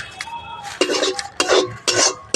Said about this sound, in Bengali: লাড়তে থাকবেন সুজিটা।